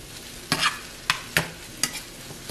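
Noodles and eggs stir-frying in a pan, a low sizzle punctuated by four crisp, close spatula scrapes at uneven intervals, with no talking.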